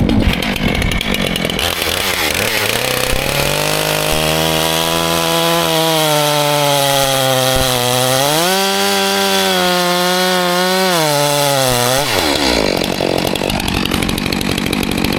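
Stihl MS 462 chainsaw trimming the ends of ash logs, a loud close engine whine that rises in pitch as the freshly sharpened chain bites into the wood, then drops back to idle.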